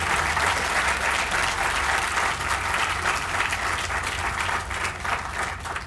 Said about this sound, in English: How about some applause for that line?